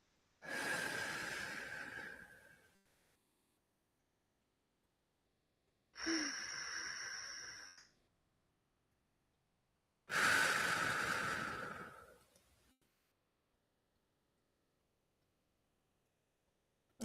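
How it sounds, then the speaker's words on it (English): Three slow, deep breaths taken during meditation. Each airy exhale lasts about two seconds and is followed by a long silence, close up and fairly soft. "now take a deep breath"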